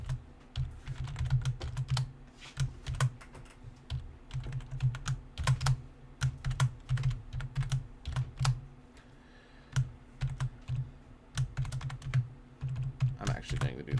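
Typing on a computer keyboard, close and fairly quiet, irregular bursts of rapid key clicks separated by short pauses, with a sharper flurry near the end.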